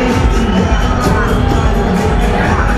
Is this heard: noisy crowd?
yes